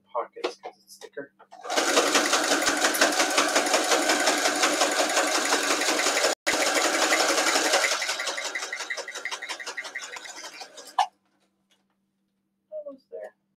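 A close, loud sewing machine stitches through thick fabric at the pockets, running steadily for about nine seconds, briefly pausing and then easing slightly, with a few soft voice sounds before and after.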